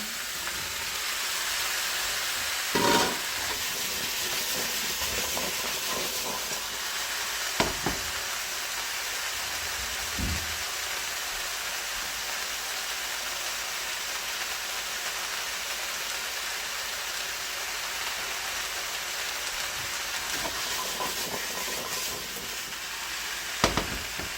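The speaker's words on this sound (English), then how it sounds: "You want to saute this on kind of a high to medium high heat" Carrots and onions sauté on high heat with a dense, even sizzle like steady rain. A few clear knocks of a spoon on the pan come at intervals, and no voices are heard.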